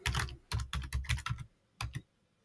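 Rapid typing on a computer keyboard while naming a column in a Power Apps Dataverse table, quick clustered key clacks in two bursts, close and crisp, with no talking.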